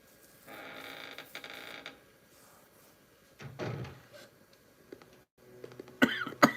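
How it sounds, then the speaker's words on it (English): A person coughs several times in separate rough bursts, fairly close, with quiet gaps and some room noise between them. "Sorry if I'm just coughing a lot."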